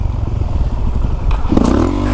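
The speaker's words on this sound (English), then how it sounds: "I'm riding this 390 right now." A Husqvarna 390 supermoto motorcycle ridden close by, its single-cylinder engine giving a loud, rough rumble with a brief rising rev near the end.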